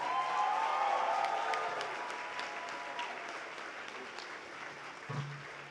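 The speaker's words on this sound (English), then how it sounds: "Let's get a round of applause." An audience at a martial arts hall of fame ceremony applauds, a dense burst of clapping that fades gradually over several seconds. A brief voice comes in near the end.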